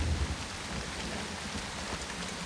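Rain falls steadily in a constant wash of hiss, with a deeper rumble at the very start.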